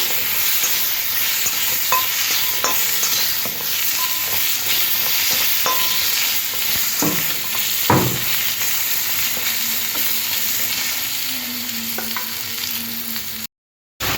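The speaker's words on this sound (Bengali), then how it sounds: "পটলগুলো কি এই তেলের মধ্যে ভাজতে হবে।" Long slices of tender pointed gourd (potol) frying in oil, a loud steady sizzle with scattered spatula clicks and a scrape or two, ending in a brief cut to silence, no voices.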